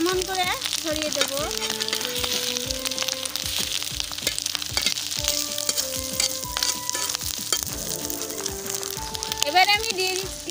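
Mixed rice spread into a hot oiled pan sizzles and crackles loudly and without pause, a dense frying hiss, while a person talks over it.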